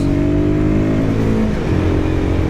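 A Royal Enfield Guerrilla 450 motorcycle accelerates hard on a mountain road, its engine note loud and close, rising steadily in pitch through the revs with a dense, continuous mid-range growl and no talking.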